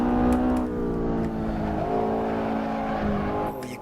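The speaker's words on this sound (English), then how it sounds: "Oh, you can hear the tyre squealing there." An engine drones in the Assetto Corsa racing game during a Le Mans run, with a thin tyre squeal running along at a steady level, and no talking.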